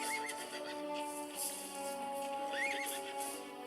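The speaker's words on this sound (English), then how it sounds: "Oh, there's that horse again." A horse whinnies in a film soundtrack, two rising-and-falling neighs heard over a background music bed, fairly quiet with no talking.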